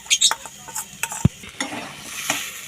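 Jackfruit cutlet filling with peanuts and grated coconut stirred in a pan, producing close, irregular scrapes and clinks of a spatula against metal over a light frying sizzle, with no talking.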